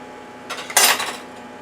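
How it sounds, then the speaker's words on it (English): A spoon scrapes and clinks against a pot of thick blueberry sauce, a couple of brief close metallic-wooden scraping bursts, the second louder and broader, alone with no talk. "Make sure you keep stirring because you don't want it to burn on the bottom."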